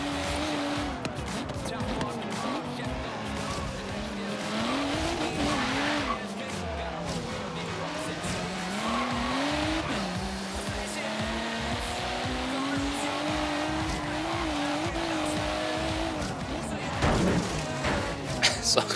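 Lamborghini Centenario racing in Forza Horizon 3, a steady loud engine note rising and falling through gear changes with tire squeal, continuing for the whole stretch while a voice talks over it.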